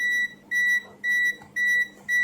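A digital auto-range multimeter's non-contact voltage detector emits five high, steady beeps at long, even intervals, each lasting about a quarter second, clear and close with no talking.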